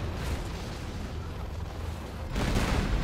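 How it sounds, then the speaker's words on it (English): Artillery fire in the Defcon tank battle game, a dense rumbling barrage of blasts that swells louder near the end. "Artillery coming in."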